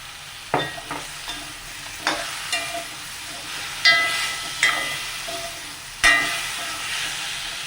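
Pumpkin with salt is stirred in a frying pan over a soft background sizzle, with sharp spoon-on-pan knocks and scrapes landing every second or so, some louder than others.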